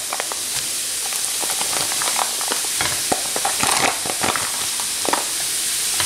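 Bean sprouts fry and sizzle in a pan with fresh mushrooms, a constant bright hiss broken by crackles and the scrape of stirring, close and steady.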